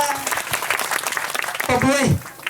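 Audience applause breaks out at a 2019 Christmas gathering in the Ngaphe/Minhla mission field area, a dense, steady clatter of clapping heard together with a voice speaking and a short sung or drawn-out vocal line.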